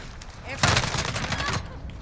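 G36K A4 assault rifle fired in Call of Duty Modern Warfare: a dense, rapid burst of automatic gunfire lasting about a second, loud and close, over a steady game backdrop.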